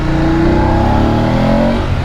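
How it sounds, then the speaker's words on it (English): A BMW F850 GS Adventure motorcycle engine drones loud and close while gears are shifted with a quick shifter, its pitch rising and sliding through a continuous rev with no break, no voices. "I love the engine noise as well. That just sounds absolutely awesome."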